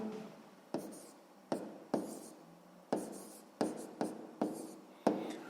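Pen strokes on paper as a math answer is written out for a sixth-grade exercise, a run of eight or so short scratchy bursts at an uneven pace, close and fairly quiet, with no talking.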